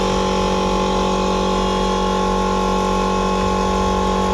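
An air-powered spinner driven by a compressor at more than double the usual pressure gives a loud, steady, high-pitched mechanical whine with a constant hum beneath, holding unchanged throughout before cutting off abruptly at the end.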